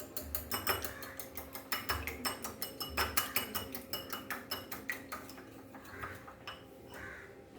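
Ingredients for an oats vegetable omelette, with pepper powder and salt, stirred in a bowl: a steady run of quick clinking taps of a spoon against the dish, close and fairly clear, with no talking.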